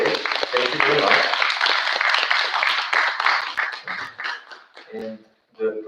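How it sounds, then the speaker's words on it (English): Audience applauding for Misha on a conference stage at NA YOLOmouc 2021, dense clapping that fills the room and then thins out, with voices talking over the tail end. "A round of applause for Misha because she didn't get one yet today."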